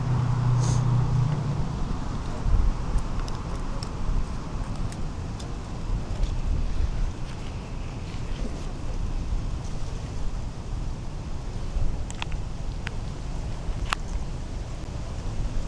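Wind buffets an outdoor microphone as a low, continuous rumble, with faint traffic-like noise and occasional brief ticks, steady and unbroken for the whole stretch with no talk.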